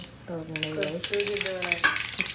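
Mustard seeds crackle and pop in hot oil in a home kitchen pan, a close, busy spatter of sharp pops over a steady sizzle, with a sustained tonal hum running through much of it.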